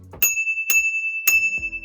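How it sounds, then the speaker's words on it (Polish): Small bicycle bell fitted to an e-bike, struck three times in quick succession, each a bright metallic ding with a short ringing tail, close and clear with handling clicks around it. "ten dzwoneczek rowerowy tak trochę nie pasuje tego e-bike'a mi się wydaje"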